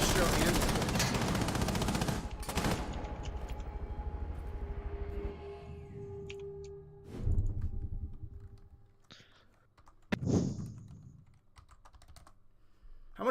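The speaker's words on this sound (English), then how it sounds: "2 excellent shots there by Maestro and" Bursts of video game gunfire crackle through rapid keyboard typing, with a dense volley at the start and a few sharper isolated shots later, while a voice speaks faintly.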